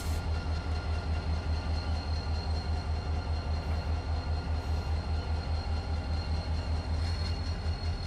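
A loaded-down coal train rolls steadily in the Run 8 train simulator game on a Conrail line, a continuous low engine drone and rhythmic rail rumble holding at constant level with faint high hiss, no voices.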